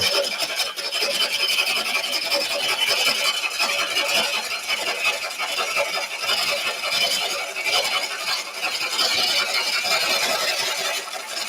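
A wood lathe spins a live-edge burl bowl while a tool scrapes and cuts it, giving a steady, loud, continuous raspy hiss with no pauses, close up and without talk.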